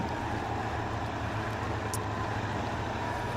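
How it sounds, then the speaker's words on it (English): A steady, low engine drone rumbles continuously at close range, a truck motor idling or cruising in SpinTires, with no breaks and no voices. "Besides the truck sounding great"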